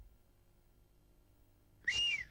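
After near silence, a brief bright whistle sounds near the end, a short sliding tone, from a 1980s television advert.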